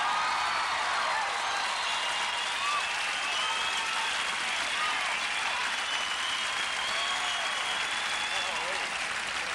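Sustained applause from a comedy show audience, dense and steady throughout, with some cheering and voices mixed into the clapping.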